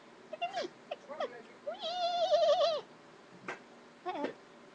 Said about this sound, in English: There's a cat among us!